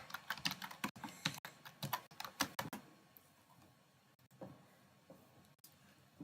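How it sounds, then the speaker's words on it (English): Rapid typing on a computer keyboard in a typing-practice session, with dense clusters of clicking keystrokes for the first few seconds, then sparser, quieter taps near the mic, with no voices. "Let's go do typing now"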